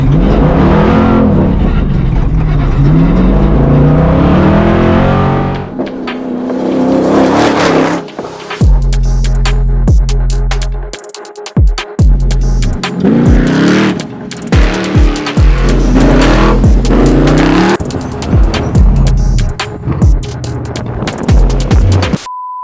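An LS3 V8-swapped 2006 Toyota Tacoma prerunner roars loudly, settling into a rumbling idle and then throwing out repeated sharp, aggressive revs that climb and drop, close to the listener.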